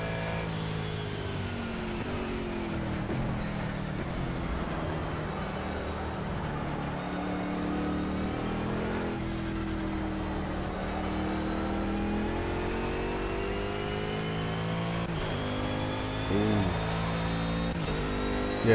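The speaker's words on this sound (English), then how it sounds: "it has a very distinct sound when you hit the sort of the maximum amount of revs when you're supposed to shift, you know, the rev limiter" A car engine in Project Cars holds high revs near the rev limiter, a sustained whining drone that sweeps gently up and down in pitch for a long stretch, moderately loud and steady.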